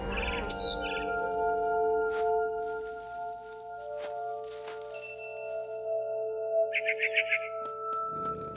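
A barn swallow chirps in the video game What Remains of Edith Finch, a quick burst of high bright tweets late on over sustained, soft musical tones and scattered light clicks.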